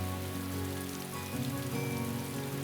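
Rain falls in a drama scene as a continuous wash, layered over sustained tonal sounds that shift partway through, with no speech.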